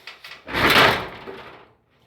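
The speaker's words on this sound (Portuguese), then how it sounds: "Fica fazendo barulho na porta." A pet scratching and rattling at a door, a single close rustling, scraping burst lasting about a second, with short faint taps before it and no talk.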